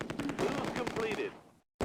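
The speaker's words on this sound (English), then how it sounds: "An MG42 opens up from the other side of the bridge." Sustained rapid bursts from an MG42 machine gun in the Close Combat wartime strategy game, firing near a bridge at Arnhem, loud and continuous before cutting off briefly, then resuming.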